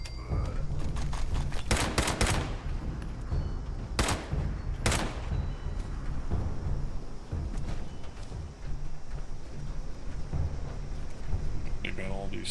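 Bursts of gunfire shoot at robots in Fallout 76, several sharp volleys ringing out in the first few seconds, over dense game noise and talking.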